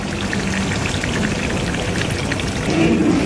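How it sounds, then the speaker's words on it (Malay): Tamarind water pours into a pan of cooking spices, making a continuous close splashing and trickling that swells slightly louder near the end. "Kita masukkan air asam jawa."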